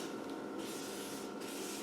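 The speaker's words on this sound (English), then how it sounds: "Spray the hinges." Aerosol rustproofing spray hissing steadily onto the door hinges of a vehicle, a continuous close hiss lasting the whole moment with no talk.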